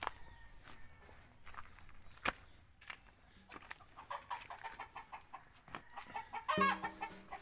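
Hens in a backyard coop clucking and squawking, close and busy, with scattered footsteps and shuffling, and a louder burst of cackling near the end.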